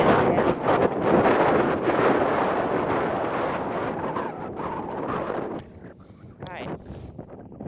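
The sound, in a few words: strong wind on a hillside at Sycamore Gap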